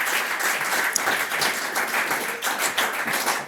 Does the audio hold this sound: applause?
yes